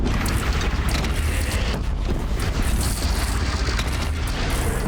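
In Horizon Zero Dawn, a bridge is shot down and collapses in a heavy, continuous rumble of crashing debris and booming impacts, loud and dense, with rattling mechanical clatter throughout.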